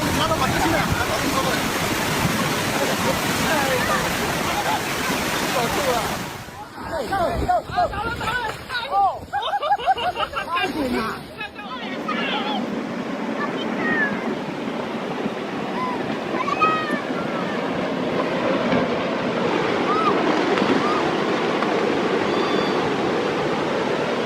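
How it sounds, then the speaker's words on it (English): Ocean swells flood across a seaside highway, a loud, continuous rush of surf and churning water with a brief break in the middle, while a narrator speaks over it. "Violent ocean swells flood across that seaside highway, transforming the shoreline into an angry stream within moments."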